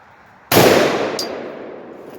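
A single loud gunshot from a Palmetto AR-10 rifle fitted with an extra-power buffer spring, sharp onset with a long decaying echo, followed by a faint metallic click.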